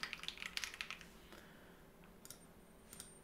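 Computer keyboard keys tapped in a quick run of light clicks as a password goes in, then a few isolated faint taps after a pause, quiet and close with no talking.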